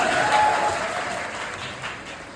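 An audience claps for children at a school or community event, steady broadband applause that swells near the start and slowly tapers off, with no voices over it.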